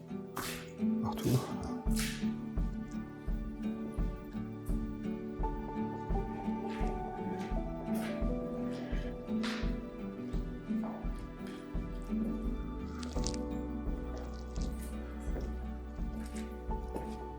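Water dripping and splashing throughout an abandoned psychiatric hospital, irregular wet drips and squishy splashes close by over a steady hum, continuing for the whole stretch with no talk.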